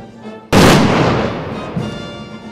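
A ceremonial salute fired from small arms at an outdoor memorial event on Victory Day makes one sudden loud crack that rolls off into a long fading echo, then a fainter second report.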